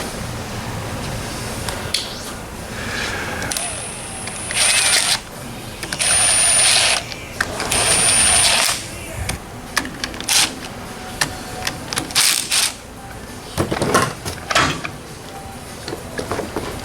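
Bolts torqued down on an AMC Model 20 rear end during a clutch-type differential rebuild: irregular mechanical clatter and clicking in bursts over steady shop noise, with no talk.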